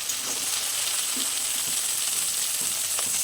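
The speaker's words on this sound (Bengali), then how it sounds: "এরপর এতে আদা রসুন বাটাটা দিয়ে দেবো, দিয়ে এটা একটু ভালো করে ভেজে নেব।" Ginger-garlic paste fries with onions in a pan for a jackfruit curry, giving a steady close hiss and crackle with a few soft stirring scrapes throughout.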